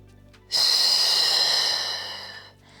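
A single long, forceful breath is pushed out during an intense Pilates exercise, close and loud, lasting about two seconds before fading away.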